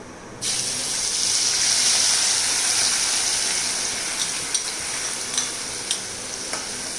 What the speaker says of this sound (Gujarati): તો સૌથી પહેલાં એમાં આપણે આદુ, મરચાં અને લસણની જે ગ્રેવી રેડી કરી છે એ નાખીશું.